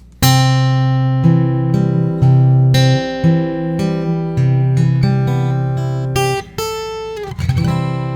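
A guitar plays a steady fingerpicked pattern of ringing notes, with clear plucked attacks in an even rhythm, ending in a brighter strummed flourish.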